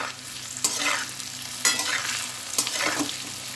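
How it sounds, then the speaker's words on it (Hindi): Half-cooked potatoes fry on high flame with salt and red chilli powder, three sharp spatula strikes each followed by a sweeping scrape and a steady sizzle under a low hum, close and without voices. "हम आलू को इसलिए फ्राई कर रहे हैं"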